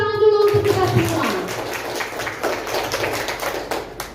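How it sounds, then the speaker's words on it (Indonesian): Classroom applause from students during a school lesson: a voice at the start, then scattered, uneven clapping that builds into a dense patter of many hands and holds steadily to the end. "Tepuk tangan dulu untuk kita semua."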